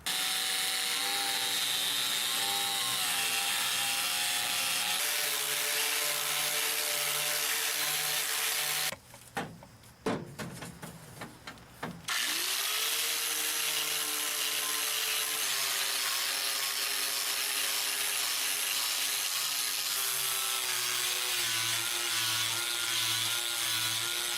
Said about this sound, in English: what I want to do with this paint is just take an abrasive wheel. This is called a quick strip wheel